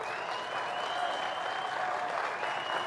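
Steady, dense audience applause fills the whole stretch without a break, with a crowd clapping together at a fairly distant, even level.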